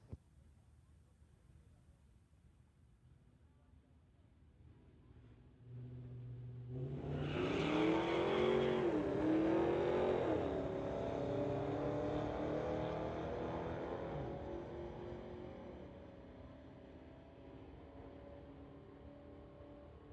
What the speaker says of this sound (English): Dave Lay in this 2013 Dodge going against Jeff Board in his 2001 Chev